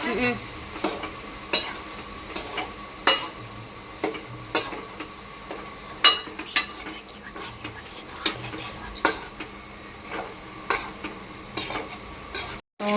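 Rice being stirred into a spiced tempering in a small metal pot, with repeated spoon scrapes and clinks against the pot over a light sizzle, close and steady throughout.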